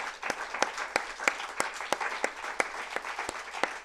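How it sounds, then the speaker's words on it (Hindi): Audience applause for a swami at a spiritual discourse, a steady wash of many hands clapping with sharper individual claps standing out at a regular pulse, moderately distant and continuous throughout. "आइए हम सब मिलकर स्वामी जी का जोरदार तालियों से अभिनंदन करें।"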